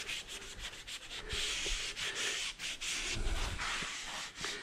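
A cloth wipes leftover glass cleaner off a car windscreen, producing a steady, close rubbing swish with brief pauses between strokes.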